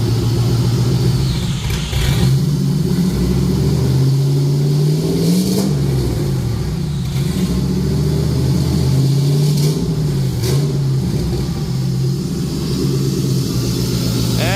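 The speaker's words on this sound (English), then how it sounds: "You want to rev it up for that, Mando?" Turbocharged Ford F-150 with a 5.4-liter 2-valve V8 revs loudly and close by, the engine rising and falling through several throttle blips over a steady rumbling idle.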